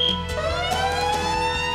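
A wailing electronic siren at a test facility site sounds loud and steady, its rising and falling tones sweeping continuously with a strong harmonic whine and no voices over it.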